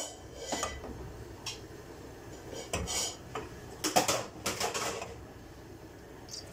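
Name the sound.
cooking pot placed on stove, spoonful of ghee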